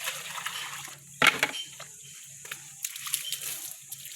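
Water sloshes and pours as it is fetched by hand, with a sharp splash near the middle and lighter patters after it, over a low steady hum.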